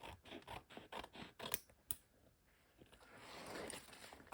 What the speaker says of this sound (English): I'll just cut the white off here.